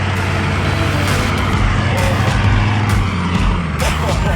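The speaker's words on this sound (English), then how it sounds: "Chris's H1 is equipped with portal axles for maximum clearance. Watch him drive right over this rock." A Hummer H1 fitted with portal axles crawls over a rock on an off-road trail, its engine a loud, continuous low rumble throughout, close by.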